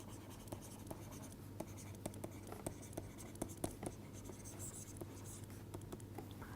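Writing out an equation by hand during a physics lecture on the canonical ensemble, faint scratchy strokes and light taps in a steady, irregular rhythm over a low room hum.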